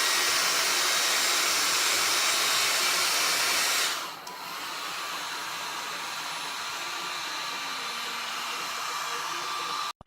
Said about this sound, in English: take the blow dryer and heat the ornament until the wax melts